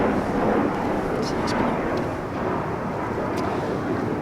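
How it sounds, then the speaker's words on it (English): Airplanes flying overhead produce a heavy, steady, broad rumble that dominates the scene, while a voice is faintly present underneath. "I don't know if these planes, I don't know if that gets caught on the mic."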